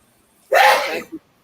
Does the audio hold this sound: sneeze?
yes